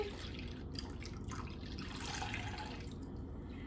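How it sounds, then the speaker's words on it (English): A cup of liquid is poured into waffle batter in a home kitchen, giving a continuous close splashing trickle that runs for a few seconds with no talking. "I have 1 full cup here, and I'm going to pour that in."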